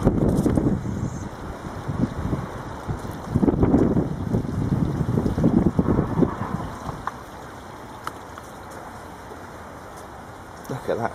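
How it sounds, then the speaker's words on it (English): Gusty wind blows outdoors around a 2007 BMW 320i SE convertible with its bonnet open, rumbling in bursts with buffeting on the microphone, then easing to a steady lighter breeze. "It is windy, but not as bad as it was."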